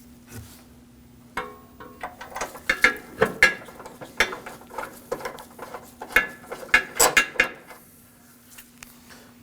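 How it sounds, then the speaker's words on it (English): A hand ratchet snugs down bolts on the front bumper impact absorber of a 2016-2022 Honda Pilot, with clusters of sharp clicking strokes separated by short pauses over a faint steady hum. "we can go around and tighten everything down together"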